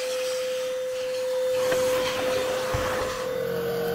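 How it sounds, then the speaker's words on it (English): An iwoly C150 cordless vacuum with LED lights and HEPA filter runs on its lowest setting, a steady close motor whine with a sharp constant tone and faint rubbing as the head moves over the floor. "this vacuum actually picks them up easily. I actually have it on the lowest setting."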